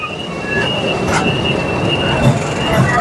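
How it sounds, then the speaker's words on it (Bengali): A Dhaka–Narayanganj commuter train runs past nearby, a steady rumbling roll of wheels on rails with a faint high metallic whine above it, no voices. "দেখুন ওই জঙ্গলের ভিতরে আমাদের ট্রেনটা চলছে"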